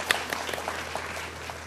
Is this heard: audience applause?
yes